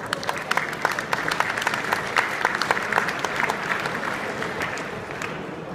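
Audience clapping at a Brown Swiss cattle show at Swiss Expo 2014, dense steady applause from a crowd lasting several seconds, fairly loud and even with scattered sharper claps.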